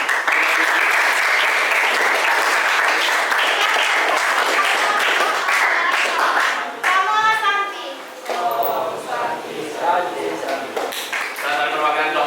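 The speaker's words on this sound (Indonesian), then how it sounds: "Kita beri tepuk tangan." Applause from students in a classroom, loud and sustained for about seven seconds, then giving way to talk and children's voices.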